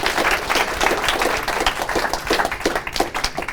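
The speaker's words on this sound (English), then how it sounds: "give a round of applause" Applause from a property-investment meeting audience, a dense steady patter of many hands clapping for the full stretch, fairly loud and close with no pause.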